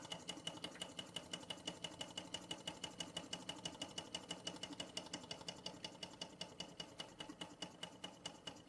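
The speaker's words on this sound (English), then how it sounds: "see the water pump going in the background" Small toy water pump driven by a Bing 10/110 poppet valve steam engine running on its original burner, giving a fast, even mechanical ticking that stays steady and fairly quiet throughout.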